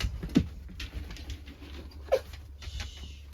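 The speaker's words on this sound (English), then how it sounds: "We have some very good puppies here." Puppies shuffle and patter softly about, with a couple of brief, faint whimpers breaking through the quiet background.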